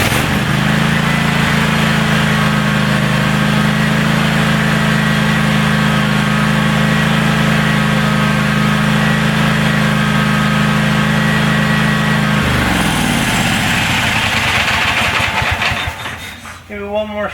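The small engine on a DR brush hog, started without choke, runs steadily with a loud buzzing drone before faltering and winding down near the end.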